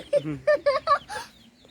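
Chickens clucking in a series of short, close calls at dusk feeding time on a small farm, five bursts in quick succession before trailing off.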